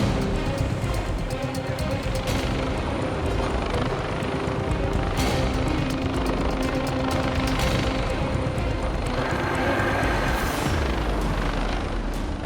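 A rescue helicopter hovers close by near a cliff during a coastal emergency, its steady heavy rotor and engine roar filling the scene continuously and loudly, with occasional faint voices beneath.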